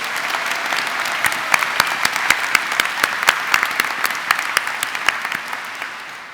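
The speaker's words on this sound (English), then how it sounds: "Give yourselves a round of applause." Graduates of London College of Fashion applaud at their graduation ceremony in a large hall, with dense clapping that builds into sharper, distinct claps near the middle before easing off.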